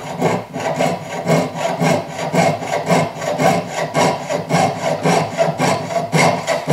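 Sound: saw cutting silver

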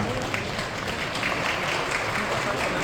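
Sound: applause

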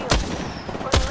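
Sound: gunfire in the video game Apex Legends

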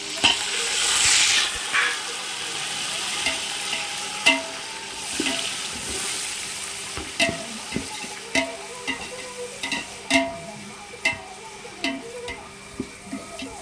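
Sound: chopped tomatoes frying and stirred for chicken biryani

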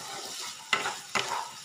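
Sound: potatoes and cauliflower frying in a pan

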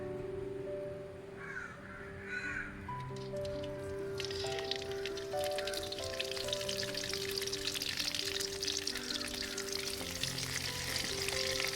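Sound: curry leaves frying in hot coconut oil in a pan

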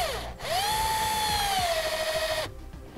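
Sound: Phillips bit screwdriver driving screws into bracket

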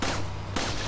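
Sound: gunshot from the video game Resident Evil 4

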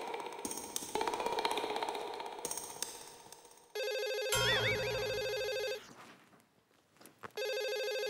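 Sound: telephone ringing

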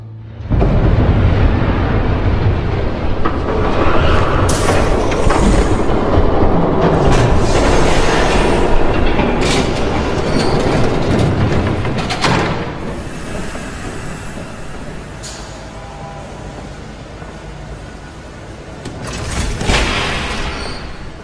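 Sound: train passing in Batman Telltale Series video game

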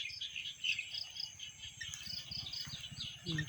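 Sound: frogs calling in a rice field at dusk

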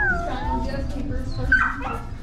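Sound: puppy whimpering and yipping

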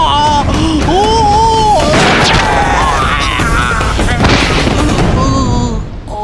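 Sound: gunshot fired

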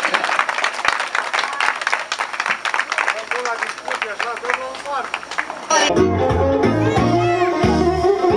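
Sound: applause for the bride at a wedding

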